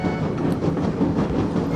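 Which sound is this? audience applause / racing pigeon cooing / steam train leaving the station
steam train leaving the station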